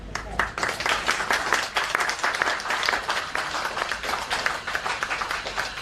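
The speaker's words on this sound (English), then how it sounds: "Just one more time, give her a round of applause for everyone in Green" An audience at a SaniWipes Green product launch breaks into dense, sustained applause, many hands clapping loudly and steadily for several seconds, with voices faintly mixed in.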